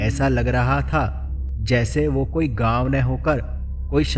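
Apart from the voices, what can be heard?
None of the usual background noises is heard.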